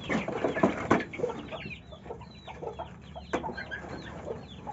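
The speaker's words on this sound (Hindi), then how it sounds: "ये रहा हमारा मुर्गा और ये रही हमारी वो ड्रामेबाज मुर्गी, ये पानी पी रही हैं" A rooster and hen drink water and cluck softly, with short scattered clucks and small rustles at close range.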